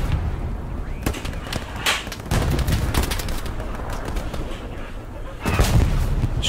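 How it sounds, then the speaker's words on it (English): Video game air strafe run gunfire: loud bursts of heavy rapid fire and booming impacts strike repeatedly over several seconds, with a strong final volley near the end. "strafe run inbound"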